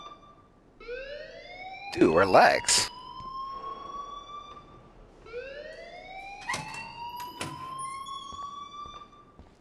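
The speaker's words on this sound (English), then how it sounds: "please turn off that alarm" In the Life Is Strange video game, a wailing alarm siren sweeps upward in repeated rising whoops, loud and electronic, while a voice speaks briefly over the first cycle.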